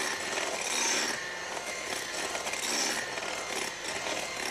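Hand mixer running at its highest speed through thick banana cake batter, a steady close whirring and rasping drone that holds continuously with slight swells and no talk.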